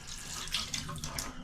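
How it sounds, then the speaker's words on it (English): Leftover water is poured out of a toilet tank part during a running-toilet repair, a short gushing splash that spills steadily and fairly close. "Now, I'll just dump the rest of that water"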